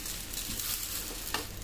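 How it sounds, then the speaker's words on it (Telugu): Dibba rotti, a thick rice-batter bread, cooks in a pan over a medium flame with a continuous close sizzle and a brief scrape partway through. "రెండో వైపు కూడా కొంచెం గోల్డెన్ కలర్ వచ్చే వరకు మనం ఫ్రై చేసుకోవాలండి."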